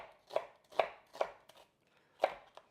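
Knife chopping white onion into thin julienne strips on a cutting board, five crisp, close knocks in an uneven rhythm with a short pause before the last cuts, no voices.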